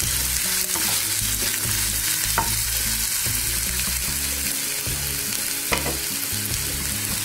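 Green chilies and onions frying in a pan give off a steady, loud sizzle, with a few sharp crackles and spoon-stirring scrapes breaking through the hiss; no one speaks.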